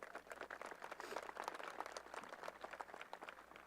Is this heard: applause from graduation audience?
yes